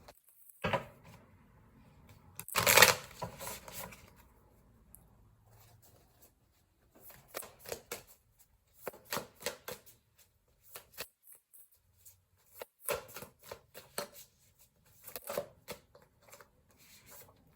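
Tarot cards being shuffled and drawn by hand: a couple of loud riffling bursts at first, then repeated short papery flicks and slaps in irregular clusters, close and fairly quiet, with no voice.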